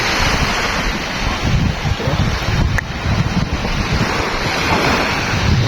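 Waves wash ashore at the Magpupungko tidal pool beach on Siargao Island, a loud, continuous surf roar heavily buffeted by wind against the microphone.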